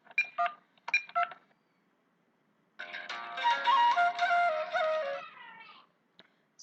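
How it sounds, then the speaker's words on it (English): Telephone keypad tones sound in a quick burst of dialing beeps for a phone call, followed by a brief pause and then a longer, louder run of tones that fade out, with nothing else heard. "I was making a phone call."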